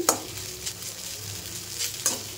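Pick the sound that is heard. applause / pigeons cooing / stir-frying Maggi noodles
stir-frying Maggi noodles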